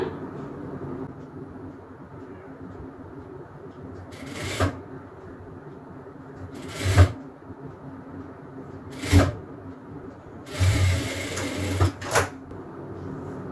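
Sewing machine stitching a petticoat seam during a tailoring lesson, with several short bursts of motor whir at intervals over a low room hum and no talk.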